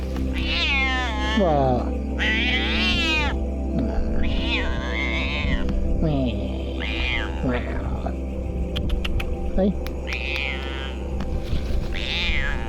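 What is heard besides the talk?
rescued kittens meowing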